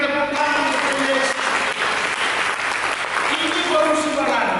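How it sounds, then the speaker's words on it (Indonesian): Applause from a church congregation during a sermon, a dense, continuous wash of clapping lasting several seconds, with voices faintly mixed in. "Mari kita berikan tepuk tangan kepada Yesus."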